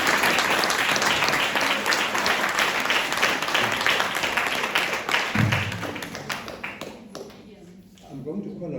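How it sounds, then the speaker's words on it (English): A crowd at a lecture event applauds an honoree, filling the room with dense, loud clapping that holds for several seconds before thinning into scattered claps and faint murmurs. "Can we give a round of applause to Makanda?"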